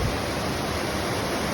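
Steady, full-bodied rushing of a Dartmoor river a little downstream of Venford Falls, a close wash of churning water that holds level without breaks or speech.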